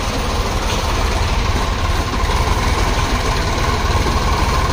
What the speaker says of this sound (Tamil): சோனாலிகா டிராக்டர் தாங்க வருது